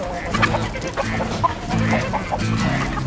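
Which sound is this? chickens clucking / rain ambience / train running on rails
chickens clucking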